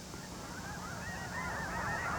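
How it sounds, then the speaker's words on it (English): Snow geese flying north over Tule Lake on the California-Oregon border at spring dawn, a dense chorus of overlapping honks from many birds, continuous and building slightly, with no voices. "Every dawn of every spring, the sky above Tule Lake is made joyous by the sight of snow geese flying north."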